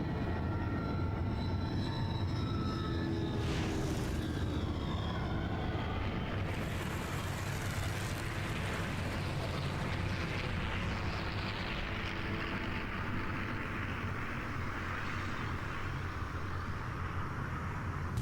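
An airplane in flight in the PlayStation 1 game Aconcagua, a steady, loud engine drone with a roaring broadband rush that holds throughout, with no talking.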